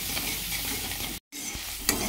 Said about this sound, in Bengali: এটা মশলাটা ভালো করে একটু ভেজে নিচ্ছি।